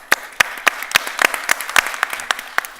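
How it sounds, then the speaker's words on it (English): A conference audience breaks into applause, a burst of sharp, scattered claps at close range that keeps going steadily for a few seconds. "Let's give them a big hand of applause."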